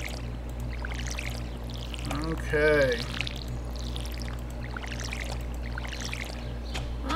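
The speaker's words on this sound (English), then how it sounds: "Got a few more crops in the ground. Let's go ahead and water those." Watering crops in Stardew Valley: a brief pouring splash from the watering can rises over steady background game music, and a single short spoken word comes just before it.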